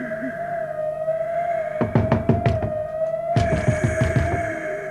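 Two bursts of sharp knocks on a door, first about six quick raps and then another series, loud and close over a steady electronic hum.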